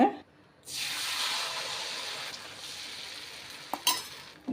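Appam batter hits a hot pan on a low flame with a sudden broad sizzle after a brief quiet start, then a steady hiss fading slightly as it is swirled, with a couple of sharp clicks near the end.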